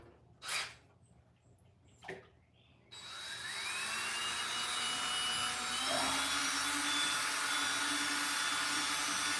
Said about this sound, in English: I use a drill because I'm lazy and don't want to hand mix it